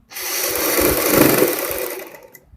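A sewing machine stitching a fabric strip for a kurti neck design runs in one steady, fairly loud mechanical whir for about two seconds, starting and stopping cleanly with no talk.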